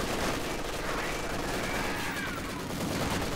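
Maxim machine gun firing in a Company of Heroes 2 battle, dense rapid bursts of gunfire mixed with other battlefield shots, heard under a commentator's voice.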